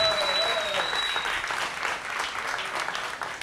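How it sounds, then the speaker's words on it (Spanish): Studio audience applause on a Spanish-language live talk show, a dense, continuous wash of clapping that stays loud and even throughout, with a faint whistle-like tone early on. "Aplausos para Caroline Forever"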